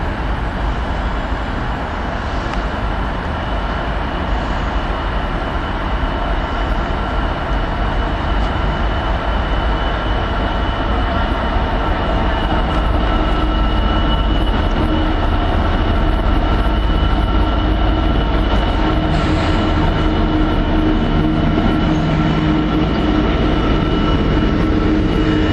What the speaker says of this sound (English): I think there's a freight coming up platform 1.